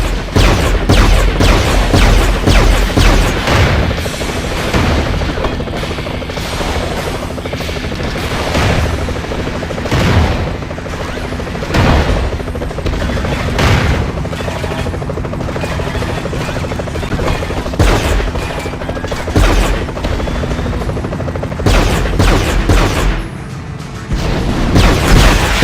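Gunfire and explosions from the Iron Man 2 video game, loud close bursts of rapid shots and booming blasts repeating in dense clusters over a continuous roaring battle din.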